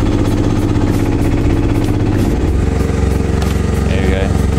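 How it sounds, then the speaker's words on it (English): A 6.5hp Honda clone engine driving an alternator, labouring at low RPM under a 2000 watt load, a loud continuous chugging drone with uneven throbbing close by. "This is now 2000 watt draw, and the engine is really bogging down now"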